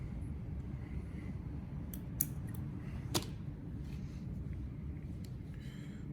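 Scissors snip twice at fly tying materials while tying a stonefly nymph on a hook, a few quiet sharp clicks over a steady low hum.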